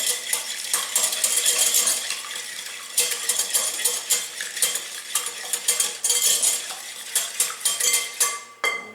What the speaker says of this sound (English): crack 2 large eggs into a large bowl. 2. And